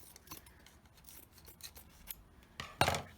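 Scissors snip at excess fabric trimmed from machine embroidery: a series of close, crisp cutting sounds, scattered and irregular at first, then a louder run of snips at the end.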